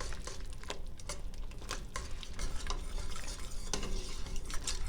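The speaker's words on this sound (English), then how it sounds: "Mix all this in, and I need that cheese to melt too." Mild cheddar cheese is stirred into a potato soup base in a pot on the stove: a steady scraping, swirling rhythm with soft utensil knocks against the pot, close and fairly quiet, with no voices.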